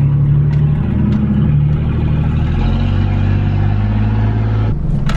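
A lifted truck's engine runs loud and close with a steady low rumble that shifts pitch as it revs slightly, continuous throughout with no talk.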